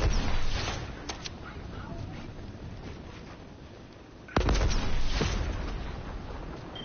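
A rocket bursts in a console shooter with one sudden heavy boom partway through, preceded by quieter rumbling game sounds and voices talking.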